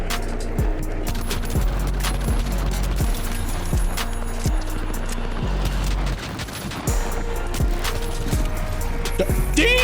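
Akimbo .50 pistols in The Finals fire in steady, heavy repeated shots, one punchy report after another across the stretch, loud and close amid constant game ambience.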